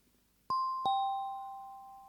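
A two-tone ding-dong doorbell sounds at a neighbour's door across the landing, two clear chimes close together, the second tone ringing on and slowly fading with no voices.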